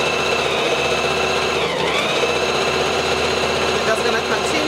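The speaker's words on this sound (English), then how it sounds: "do our ½ inch stitch on our machine" Sewing machine running a steady half-inch seam along an infinity scarf, a continuous close motor whir and needle hum that holds without pause throughout.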